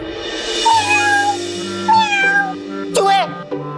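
A person imitates a cat's meow to scare off mice in a children's fantasy TV drama. Two or three drawn-out, rising-and-falling meows rise clearly above steady background music.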